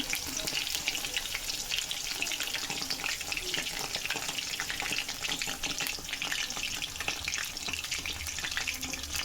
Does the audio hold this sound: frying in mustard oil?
yes